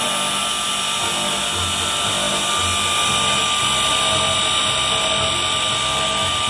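A Kanto KT2708 table saw runs continuously with a steady high-pitched whine and whirring hum, constant and close throughout with no voices.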